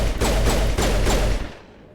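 A rapid burst of gunfire from a head-mounted cannon on the Citadel in Mass Effect Legendary Edition, loud sharp shots in quick succession for over a second before cutting off.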